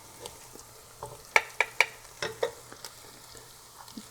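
Chopped onions sauté with turmeric in a hot pan, a soft steady sizzle broken by several sharp clicks of a utensil stirring against the pan, close and fairly quiet.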